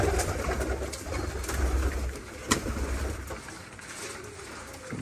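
Çayka, Königsberg, Kloten and Rostov pigeons coo softly inside a coop on a cold day, making low murmuring calls that overlap. Faint clicks and rustles sound from the birds moving around, and one sharper knock stands out midway.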